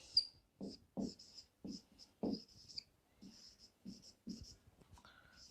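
Handwritten notes during a chemistry lecture, with pen or chalk strokes in short scratchy bursts at an irregular rhythm, fairly faint and heard alone without talk.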